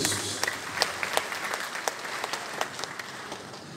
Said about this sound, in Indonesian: Kita beri tepuk tangan buat Tuhan Yesus.